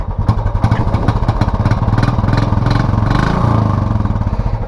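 A Royal Enfield motorcycle with its stock silencer thumps out a steady, even exhaust beat at idle, loud and close with no voices.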